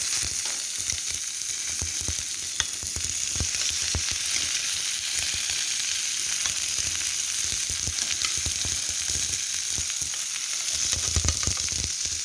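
Chicken steak sizzling in an oiled pan, a steady, close hiss of frying oil with faint crackles and pops throughout and no talking.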